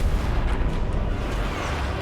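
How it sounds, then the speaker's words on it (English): A big explosion booms in a Total War: Warhammer siege battle, a loud sustained rumbling roar that fills the whole stretch without any talk. "That was a big explosion."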